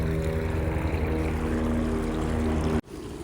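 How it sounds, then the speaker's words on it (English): A helicopter passes overhead as a steady, loud rotor and engine drone with low harmonic hum, holding constant before cutting off abruptly near the end. "There was a helicopter flying over by"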